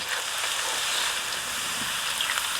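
Steady, dense crackling sizzle of flour-coated shrimp frying in hot oil in a pan, close and constant throughout with no talking.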